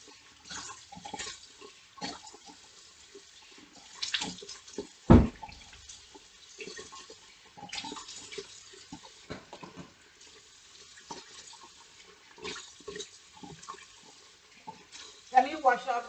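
Running tap water while a microdermabrasion device is washed out at a sink, a faint steady trickle broken by small clatters and one sharp knock, with quiet movement around it.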